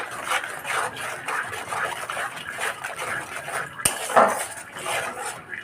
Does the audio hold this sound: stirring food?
yes